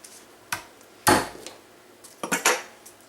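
A garlic clove gets mashed under a knife blade on a cutting board, a few sharp hard knocks with one heavy thud, followed by a quick cluster of smaller taps.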